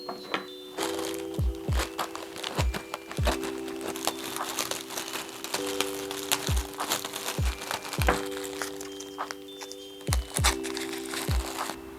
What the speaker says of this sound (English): I'm going to be wrapping them up using these like air pockets